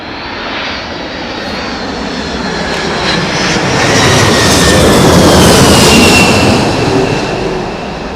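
A United Boeing 767 at Heathrow in strong winds roars under engine power, a loud, broad jet rumble with a high turbine whine that swells toward the middle and eases slightly at the end.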